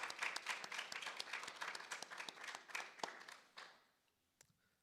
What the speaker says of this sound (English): A round of applause, please, for Swamiji.